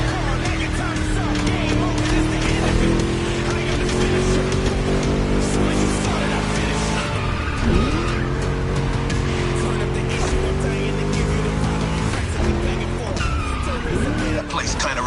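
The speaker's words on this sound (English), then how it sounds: "Just listen to that V8, like a chunky, down-tuned guitar riff." A V8 car engine roars steadily while racing in GTA 5, the drone holding near and loud the whole way with rising pitch sweeps and bursts of tire squeal.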